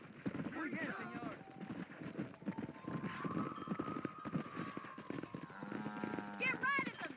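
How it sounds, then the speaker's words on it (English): Cattle being herded on horseback in the video game Red Dead Redemption: hoof clip-clop and livestock noise run steadily beneath overlapping speech and game music throughout. "Herd the cows down the road."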